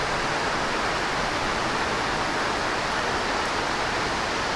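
Muddy, chocolate-brown floodwater rushing along like an irrigation channel after heavy rain, a dense, constant close-up roar of churning water with no voices.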